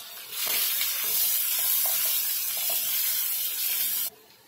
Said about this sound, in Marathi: कढीपत्ता छान भाजला ना की आपण इथे कांदा टाकून घेणार आहोत